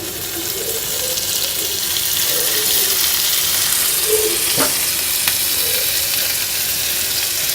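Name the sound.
uttapam dosa sandwich sizzling in butter on a pan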